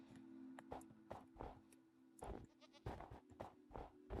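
A goat in a video game bleating repeatedly, several short nasal bleats in an irregular rhythm over a faint steady hum, close and clear with no talking.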